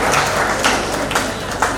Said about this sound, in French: On peut applaudir pour nos parents.